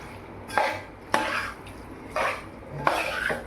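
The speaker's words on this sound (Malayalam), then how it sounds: "നന്നായിട്ട് ഇളക്കി യോജിപ്പിക്കാം" Chicken pieces coated with turmeric and salt are stirred in a pot: four separate scraping, clattering strokes with short pauses between them, close and moderately loud.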